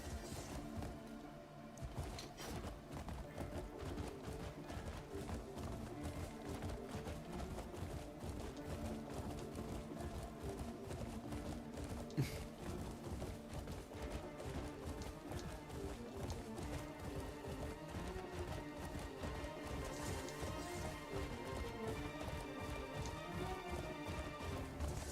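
A horse gallops steadily in Crimson Desert, hooves pounding in a continuous rapid rhythm for the whole stretch, close and fairly loud, layered with game music and ambience, with one sharp impact midway and no voices.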